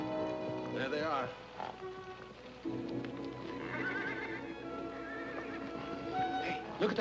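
Wild horses in a herd roaming a green valley in a 1951 western, neighing and whinnying repeatedly with hooves clip-clopping, set against film music and some voices.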